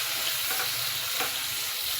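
Tomatoes and green chilies sizzling in a pan with turmeric, a steady close frying hiss with no one talking.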